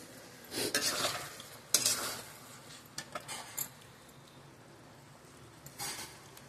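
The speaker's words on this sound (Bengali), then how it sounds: "পোস্তটা গ্রাইন্ড করে রেখেছি, সেটা এবারে দেব। সুন্দর করে এবারে মিশিয়ে দেব।" A utensil stirs ground poppy seed and green chili paste into potatoes in a pan for aloo posto, giving intermittent scraping and clinking strokes in short bursts, close by and fairly quiet, with no talking.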